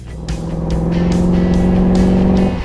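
Snarling small block Chevy V8 in a 1932 Ford roadster hot rod, roaring loud and close with a deep, steady throbbing rumble that swells slightly as it revs, heard alone.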